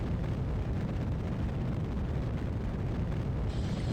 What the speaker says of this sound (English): fire up the AJ-10